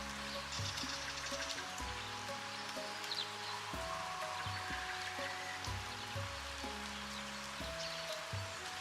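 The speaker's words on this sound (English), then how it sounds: "Oh, that's a very light," Light, gentle rain in the video game Inn Tycoon, a soft steady patter running quietly beneath tonal game music.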